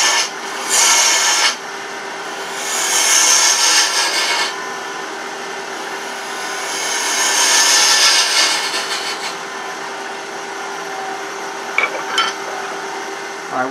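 Gouge cutting a captive ring goblet on a wood lathe with a 3/8 inch bowl gouge, a steady rasping scrape that swells in several long passes against a constant low motor hum.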